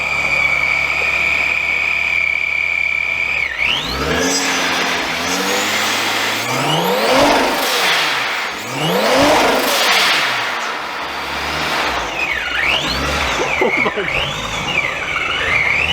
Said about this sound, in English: I love how it sounds. Just a perfect little VR6 idle.